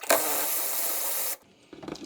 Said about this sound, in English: Let's get this power ratchet on there.